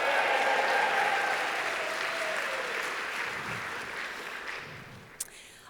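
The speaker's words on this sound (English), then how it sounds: "Let's give the March for Life a big cheer." Outdoor crowd at a March for Life rally in the UK bursts into loud sustained applause and cheering that slowly fades over several seconds, with a stray voice near the close.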